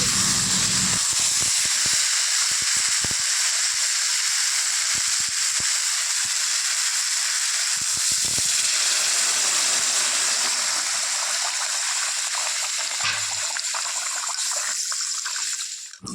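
Water added to curry in a cooking pan hisses and sizzles loudly in a steady steaming rush that slowly softens and thins toward the end.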